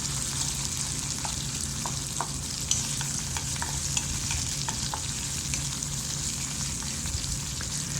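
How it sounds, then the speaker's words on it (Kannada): Onion, green chillies and curry leaves fry in hot oil for avalakki bath, a steady dense sizzle running throughout with occasional sharper crackles and faint scraping of a spatula. "ಸೊ ಇವಾಗ ಈರುಳ್ಳಿ, ಮೆಣಸಿನ್ಕಾಯಿ ಮತ್ತು ಕರಿಬೇವೆಲ್ಲ ಹಾಕಿದ್ಮೇಲೆ ಈರುಳ್ಳಿ ಸ್ವಲ್ಪ ಫ್ರೈ ಆಗಬೇಕು"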